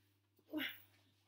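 A puppy lets out one short whimper near the middle, faint and close against a quiet indoor room with a low steady hum.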